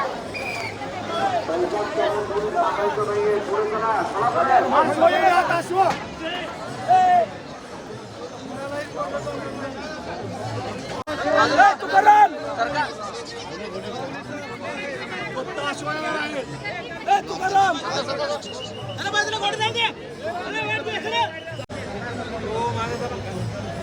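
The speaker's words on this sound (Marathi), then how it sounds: "तुम्हाला इथली गर्दी दाखवतो पूर्ण जरा साईडला येतो आणि गर्दी दाखवतो" Dense crowd of pilgrims at a Palkhi procession, a constant babble of many voices with shouts and chatter rising and falling, close and lively throughout.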